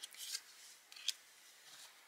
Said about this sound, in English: I like to just shuffle them all